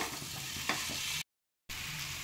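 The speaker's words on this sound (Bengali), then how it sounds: "লবণটা দিয়ে একটু ভালো করে নাড়াচাড়া করে নেব," Olive pickle cooking in oil sizzles steadily while being stirred after salt is added, one soft scrape standing out, interrupted by a short dropout of silence before the frying resumes.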